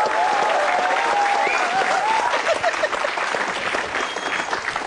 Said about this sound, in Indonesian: Tepuk tangan untuk Jui Purwoto.